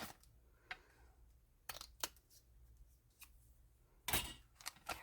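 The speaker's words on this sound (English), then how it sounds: "All right, let me trim this" Scissors trim covers made from Amazon envelopes for handmade journals, with a few crisp snips and rustles of crunchy paper at close range in a quiet room.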